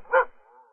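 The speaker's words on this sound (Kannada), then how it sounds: "ಹಿಂದಿಲ್ ಬೊಗಳ್ತಾ ಇದೆ." A single short, close dog bark, loud and abrupt, trailing off into a faint whine.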